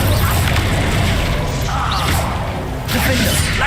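A Depulso spell impact in the Hogwarts Legacy video game: a loud, close crashing whoosh of sustained rushing noise that briefly dips, then surges again near the end.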